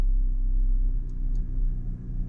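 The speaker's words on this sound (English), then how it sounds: "the idle's already settled down to a nice low hum" A low steady rumbling hum comes from a nearly new Acura Type S sports car engine idling, heard from inside the car, with a smooth, continuous, fairly loud drone and no talk.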